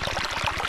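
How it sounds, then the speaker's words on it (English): Fast water cascades over a log cutout across a hiking trail on the Appalachian Trail near Grayson Highlands, a loud, steady rushing pour close by with a gurgling pulse. "Just water is cascading like crazy over it."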